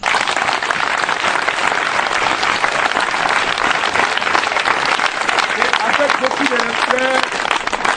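A church congregation applauding and cheering in praise of Jesus, dense sustained clapping filling the room at full volume, with a voice rising briefly over it near the end.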